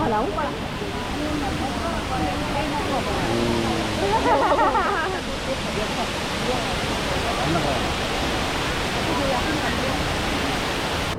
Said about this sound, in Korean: 대만의 나야가라 폭포라고 합니다.